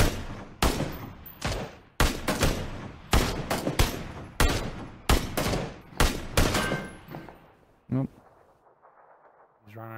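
Loud, close bursts of automatic gunfire in a battle royale shooter, rapid volleys with short pauses, fading to a quiet tail near the end.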